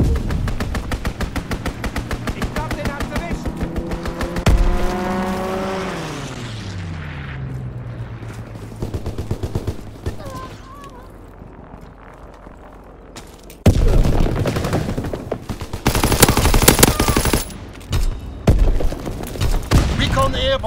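Strafing-run machine gun fire from an attacking aircraft in the World War II shooter Call of Duty WWII: sustained loud rattling bursts with an engine drone sweeping down in pitch, followed by dense explosive gunfire in the second half.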